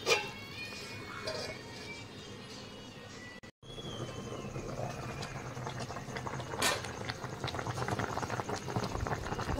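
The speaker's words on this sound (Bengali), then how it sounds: "ঝোলটা কি সুন্দর ফুটছে" Papaya curry gravy bubbles at a steady boil in a pot, a dense, continuous simmering texture close by that briefly cuts out and then returns slightly louder.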